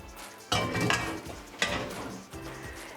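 Pasta and asparagus with vegetables scraped and tipped into a deep-sided skillet, giving two bursts of clattering utensil-on-pan scraping and soft sizzling, close and fairly quiet, with no talk.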